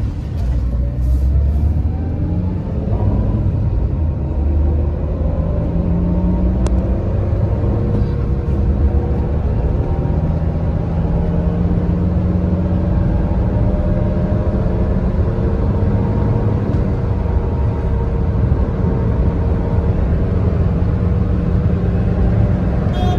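A used Maruti Suzuki Wagon R VXI car offered for sale, with one bearing needing replacement, drives on a test run. Its engine gives a steady low rumble with road noise that runs unbroken from start to end.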